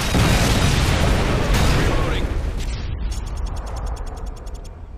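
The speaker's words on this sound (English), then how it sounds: "Friendly Predator missile incoming." A Predator missile strike in Modern Warfare 2 erupts as a heavy, booming explosion, its rumble and debris roar lasting a few seconds before fading under a rapid mechanical rattle.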